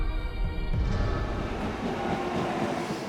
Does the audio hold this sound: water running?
no